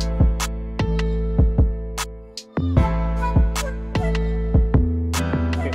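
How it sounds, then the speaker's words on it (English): Layered keys in a trap beat built in FL Studio 20, with steady tonal chords over a regular pattern of punchy kicks and a brief drop-out near the middle, no voices. "Add some keys to that, sound something like this."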